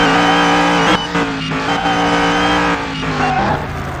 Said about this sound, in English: Let's see how fast we have made this car again.